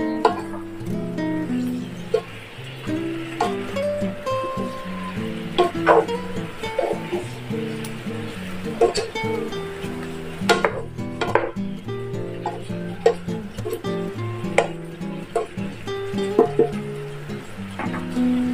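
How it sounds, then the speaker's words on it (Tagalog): Leeks and ginger stirred in a pan, irregular soft clacks and scrapes of a utensil against the pan with quieter gaps, close up and steady over a low background. "Maglalagay tayo ng leeks at ng ginger. So, haluin lang natin."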